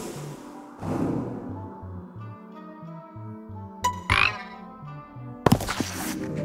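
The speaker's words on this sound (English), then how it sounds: "Heartbroken frog." A frog croaks in the Storyteller puzzle video game, a brief warbling croak that rises over soft, stepping game music, followed by a sharp burst of other game sound effects.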